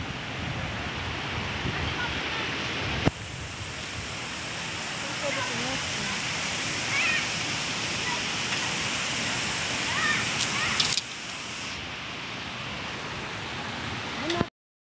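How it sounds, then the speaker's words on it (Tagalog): Tungtong Falls in San Jose del Monte, Bulacan, pours as a steady broadband roar of rushing water, close and continuous, with voices speaking over it. "Guys, finally, nandito na kami sa Tongtong Falls."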